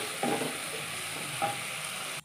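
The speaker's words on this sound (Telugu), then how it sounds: "సో ఇదైతే ఫ్రై అవుతుందండి." Ridge gourd fries in a pan with a steady, moderate sizzle and two brief stirring scrapes close up, with no talk.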